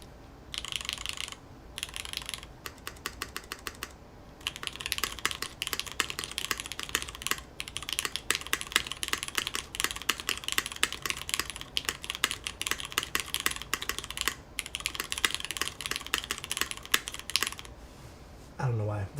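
Steady, fast typing on a Tofu60 Redux mechanical keyboard with 4-wrap stabilizers gives a dense run of clacky keystrokes and occasional heavier spacebar hits. The sound is close, fairly flat and continuous, with only brief pauses.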